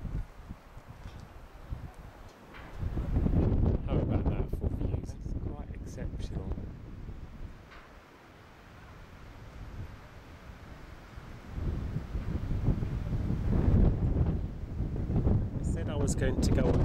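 Strong gusting wind at Bishops Castle, Colorado buffets the microphone in low rumbling waves, easing briefly midway before picking up again, with occasional voices in the background.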